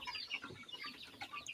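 Chickens, young chicks being kept on a farm in the rainy season, clucking and peeping softly in short bursts, faint and brief.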